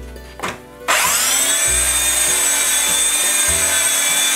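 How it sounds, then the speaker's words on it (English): Electric power sander running on a wooden table subtop: a short scrape, then the motor spins up into a loud, steady high whine with a rhythmic rumble as the pad moves across the wood, close and alone. "Now we'll sand the subtop."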